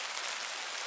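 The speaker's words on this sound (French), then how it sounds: "Je sais pas si vous l'entendez, mais là il pleut bien." Heavy rain pours steadily at night over a winter bivouac camp, a dense, even hiss with no voices or other sounds.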